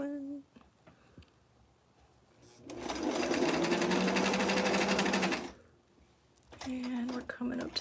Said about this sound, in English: let's start sewing.